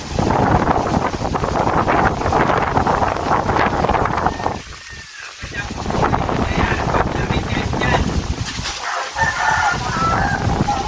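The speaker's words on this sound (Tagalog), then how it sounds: "Ayan, lakas ng hangin, no?" Strong wind roars against a house whose roof is being damaged, a steady, loud broadband rush that keeps going with only brief lulls.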